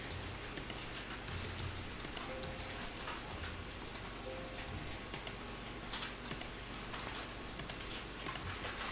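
Scattered, light key clicks from a computer keyboard as shortcut keys are pressed in CAD drafting software, irregular and fairly close over a low steady background hum.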